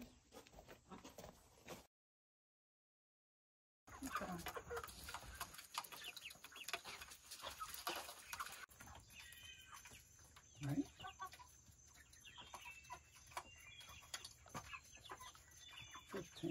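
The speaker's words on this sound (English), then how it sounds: "Oh, chicken." Backyard free-range chickens clucking on a beginner's farm, soft intermittent clucks at close to moderate distance over outdoor background noise, with a brief gap of silence early on.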